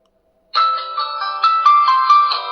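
After a moment of near silence, a loud, bright ringtone melody bursts from a budget smartphone speaker, playing continuously in close range inside a garage.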